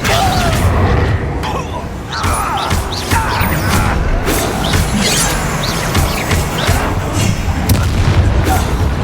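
Confringo spell blasts in Hogwarts Legacy combat, a dense, continuous stretch of booming explosions and crashing impacts layered over game music and effects.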